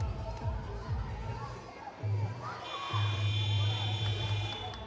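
Spectators murmur and chatter at a women's handball bronze match at Oriam Sports Centre, a steady crowd babble with buzzer-like tones and a commentator talking over it.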